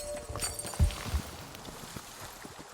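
Hooves of a shaggy, hairy horse ridden by a queen in Kingdom Two Crowns: Norse Lands, a few soft low clops stepping at a slow walk over a faint background.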